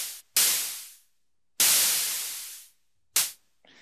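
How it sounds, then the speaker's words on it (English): Synthesizer white-noise sizzle patch from Massive, three loud bursts of bright hiss, each cut off sharply and fading over about half a second to a second, with short gaps of silence between them. "You could hear it's very similar to a white noise sound, because that's basically all it is."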